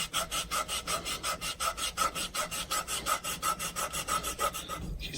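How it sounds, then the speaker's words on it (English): Steady back-and-forth rasp of abrasive cloth sanding copper fittings while an evaporator coil is replaced, about twenty quick even strokes close up, with no talk. "We'll sand our fittings."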